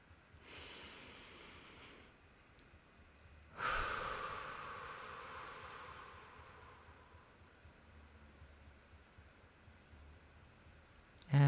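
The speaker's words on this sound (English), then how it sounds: "Take a deep breath." During a guided relaxation exercise, a person draws one deep, audible breath in and lets it out in a long, slow exhale. A fainter breath comes before it, and there is a brief sharp noise at the end.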